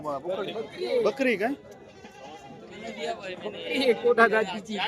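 A goat bleats in wavering cries, a couple of times, close by, while people chatter and talk over it at a goat and sheep market in Loni.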